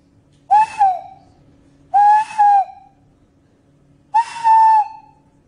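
A person whistles three separate high notes, each rising slightly then falling off, with short gaps of quiet between them and a faint low hum underneath.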